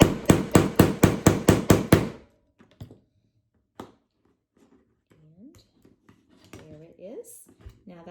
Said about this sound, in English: and bang it with a hammer.